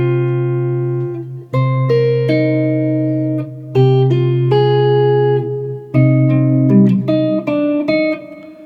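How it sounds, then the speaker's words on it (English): A PRS Custom 24 electric guitar in standard tuning plays a fingerstyle intro line from a Clair Obscur: Expedition 33 tune, with ringing sustained notes and plucked chords washed in heavy reverb, played alone and up close. "Now I'm playing this on my electric guitar."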